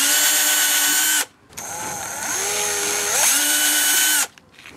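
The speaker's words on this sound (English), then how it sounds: "Drill holes for the mounting screws." A power drill whines loudly in two long runs drilling holes in PVC, its pitch sliding up and down as it bites into the material, with a short pause between.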